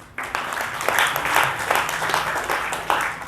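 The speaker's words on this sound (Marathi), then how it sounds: "टाळ्या वाजवा ताईसाठी" Audience applause rings out at a religious satsang gathering in Sambhajinagar, a steady wash of many hands clapping at close range that carries on for several seconds.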